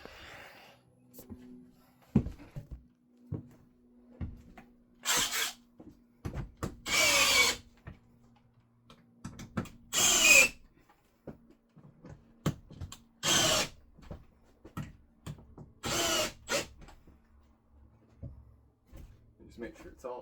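A power drill tightens the mounting bolts on a Dometic RV air conditioner, whirring in several short bursts of one to two seconds separated by clicks and handling noise, close and loud.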